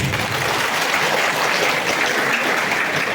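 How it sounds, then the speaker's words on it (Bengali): Steady, dense clapping from a large crowd, loud and sustained throughout with no pauses. "আপনাদের কাছে একটু জোরে করে তালি আশা করছি"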